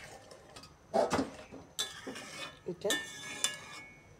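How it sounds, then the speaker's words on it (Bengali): A utensil stirs a simmering mixture of taro stems and chopped greens in a cooking pot, giving a few scraping, clinking strokes close by. A quiet word is spoken amid them. "এখন সুন্দর করে নাড়াচাড়া করে"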